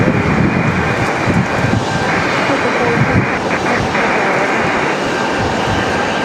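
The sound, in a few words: airliner landing in strong wind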